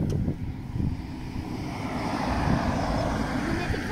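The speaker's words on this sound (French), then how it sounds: "Attends, Jacques, il y a une voiture." A car passing on a countryside road, a broad rumbling swell that rises and holds at moderate distance, steady and unobtrusive with outdoor air around it.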